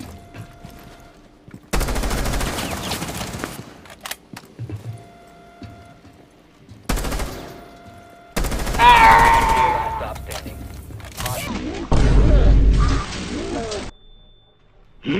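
Bursts of automatic gunfire from Rainbow Six Siege come in several loud, sustained volleys separated by short pauses, with other game sounds in between.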